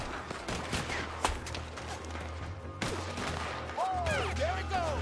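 Gunfire in the Western game Red Dead Redemption 2, a cluster of rapid overlapping shots and sharp cracks over busy background noise, with people talking.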